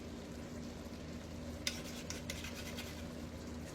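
A utensil scrapes leftover bacon grease into a pot with a few quick, sharp scratches over a soft steady background hiss, close and fairly quiet.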